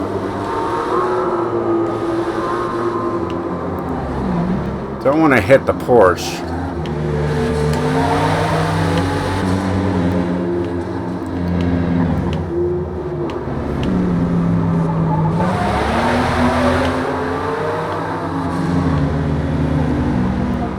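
A race-tuned 1998 Toyota Supra roars along a track, its engine droning and shifting pitch as it revs and eases, with a short tire squeal midway and someone talking over it.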